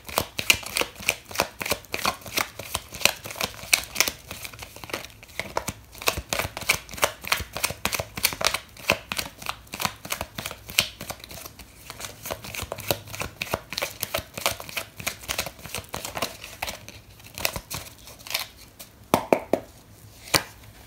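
Tarot cards being shuffled and drawn, a rapid run of crisp card riffles and flicks close by, steady and busy throughout with a few louder snaps near the end and no talking.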